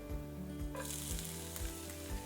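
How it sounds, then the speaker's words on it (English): Onions frying in a tablespoon of olive oil in a pot, a constant close sizzle over a low rhythmic hum, with a brighter burst of crackle as they hit the oil. "add just a tablespoon of olive oil to your pot, and then we're going to add in the onions"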